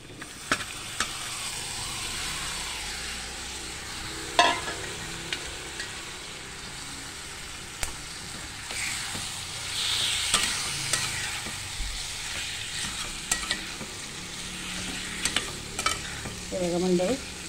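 Prawns marinated in turmeric, lemon and salt sizzle steadily as they are stir-fried in a pan for kolambi masala, with occasional clinks and scrapes of a spatula tossing them.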